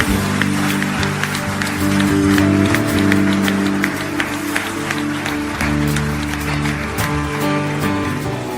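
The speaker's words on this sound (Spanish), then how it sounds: "Le damos un fuerte aplauso al Señor." Congregation applause in a church service, a busy spread of clapping over a sustained musical or vocal background, continuing evenly for several seconds.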